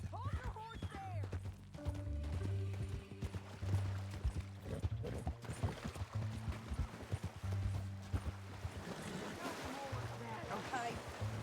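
Horse hooves clip-clopping at a steady trot in the western video game Red Dead Redemption 2, a close rhythmic beat running throughout beneath a low hum and intermittent speech.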